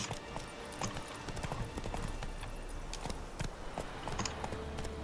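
Steady clip-clop of a horse's hooves at a walking pace in The Witcher 3: Wild Hunt, close by, with occasional sharper hoof strikes over a low rumbling background.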